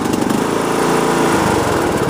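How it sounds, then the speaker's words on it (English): A Craftsman T110 lawn tractor engine runs on full choke, a loud, close, rapid and steady small-engine putter with no voices. "Choke's up all the way and should fire up in probably 2 split seconds."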